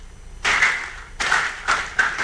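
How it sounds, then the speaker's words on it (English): A conference hall audience of school leaders at a national KEPSHA/KCB annual general meeting and conference breaks into short bursts of applause, three separate swells of clapping in about two seconds, with no talking. "Allow me to ask yourselves to clap for yourselves."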